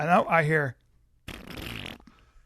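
A voice imitates a child farting loudly, making a long, sputtering, buzzy blast. A shorter raspy burst follows after a brief pause.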